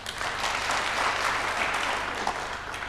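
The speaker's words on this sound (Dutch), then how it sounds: "de zaal klapt" A TV quiz studio audience applauding, a dense steady wash of clapping hands that holds throughout at moderate loudness.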